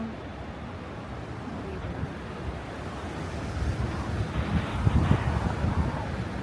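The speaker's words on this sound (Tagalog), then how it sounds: "Ay, ang lakas ng hangin." Strong wind buffets steadily in Kyoto or Nara, Japan, with a broad, rushing roar that gusts louder toward the end, outdoors and without voices.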